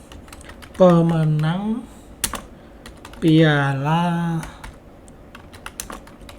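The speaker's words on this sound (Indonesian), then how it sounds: "Contohnya saya akan mengetik" Typing a Google search on a computer keyboard: sharp, close key clicks come in scattered bursts between and beneath two stretches of speech, with a few louder isolated keystrokes near the end.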